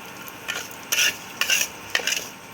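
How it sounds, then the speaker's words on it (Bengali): Mussels fry in a pan with a metal spoon or spatula stirring them, four or five quick scraping strokes over a steady low sizzle, close and clear with no speech. "অনেকক্ষণ ধরে কিন্তু ভাজতে হবে আর অনবরত কিন্তু নাড়তে হবে"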